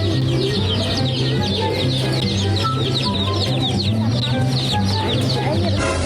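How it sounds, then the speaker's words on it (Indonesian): Many young chicks cheep and peep continuously from a cardboard box on a guest table, a busy overlapping chorus with clucking tones, under a low steady hum and some background talk. "Wah, meja tamu jadi rame suara anak ayam deh."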